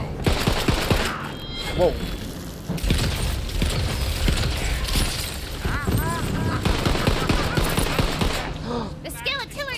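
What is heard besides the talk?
shotgun gunfire, from video game Tiny Tina's Wonderlands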